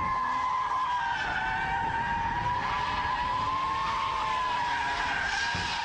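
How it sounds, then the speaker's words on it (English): A car in a power slide while drifting on a wider radius, with a loud, sustained tire squeal and skid wail holding steady over engine roar, close and continuous for the whole stretch. "So to progress that, we need the power slide."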